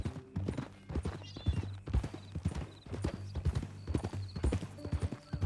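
Horse hooves clip-clop in a steady, close walking rhythm in the video game Red Dead Redemption II, with low background music and ambient hum underneath.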